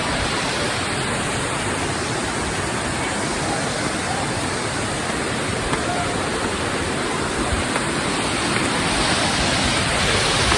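Kuntala waterfall pouring down in a loud, dense, unbroken roar that fills the whole stretch with even rushing water and no voices.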